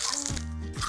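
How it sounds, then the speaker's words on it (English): Crispy homemade microwave garlic potato chips crunch loudly up close in two brittle bursts, with a brief hummed voice sound between them. "they are crispy. Crispy. Did you hear that? They went crunch."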